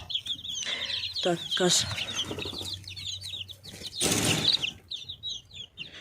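Chickens and young chicks cluck and cheep in a barn pen, with many peeping calls and some wing flapping close by, while someone speaks briefly in between.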